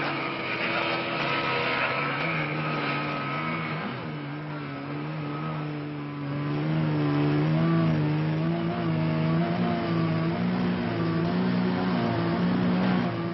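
Racing car engines drone steadily through a 1969 world championship endurance race at dawn, a loud continuous mix of several motors holding sustained pitches that rise and fall slightly, with no voices over them.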